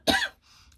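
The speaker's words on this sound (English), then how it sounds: "Sorry, I still have a cough from being sick." A single person's cough, one short harsh burst up close, followed by a faint breathy tail and quiet room.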